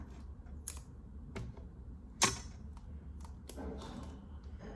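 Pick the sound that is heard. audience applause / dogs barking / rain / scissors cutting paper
scissors cutting paper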